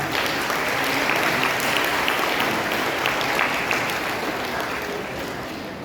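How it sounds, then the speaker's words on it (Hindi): Loud, sustained applause from a school audience welcoming a house team at an inter-house patriotic play competition, dense steady clapping throughout with no speech. "जोरदार तालियों के साथ स्वागत करें जब सदन का।"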